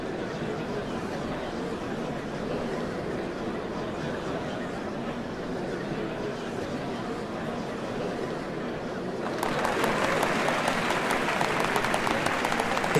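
Crowd applause in Final Fantasy XIV at the changing of the Dawnservants, a steady broad wash of distant clapping that swells louder and denser toward the end.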